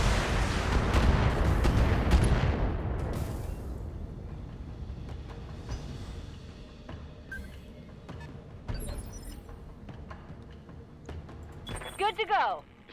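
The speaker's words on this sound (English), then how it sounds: "so lots of SRM fire" Heavy barrage of SRM missile launches and impacts in the mech combat game BattleTech, a dense rumbling roar that slowly tapers off, followed by scattered bangs and sharp digital chirps, with talk present.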